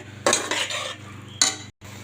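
Mutton lungs frying in oil in a pan while being stirred, with scraping bursts of a utensil against the pan over a steady low sizzle, ending in a brief silence before the frying resumes.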